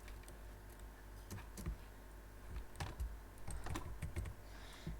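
Quiet typing on a computer keyboard during a gaming session, with irregular clusters of soft key clicks and taps over a steady low background hum.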